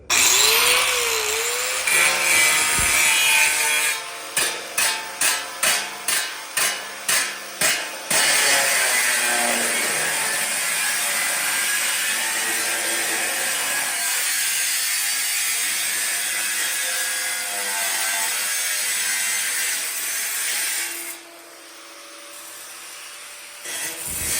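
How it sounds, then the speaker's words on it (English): Angle grinder without a shield cutting through buildup with a loud, steady high whine, broken early by a series of about eight short rhythmic bursts before the cut runs on continuously and winds down near the end. "Now, I know I'm using a grinder without a shield."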